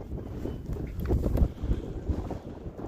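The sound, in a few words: strong wind blowing on microphone outdoors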